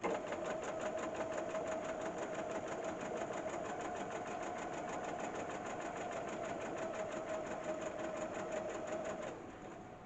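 Sewing machine stitching around the neckline of a top, a fast steady mechanical whir with rapid regular needle ticks running close and loud for about nine seconds before easing off at the end.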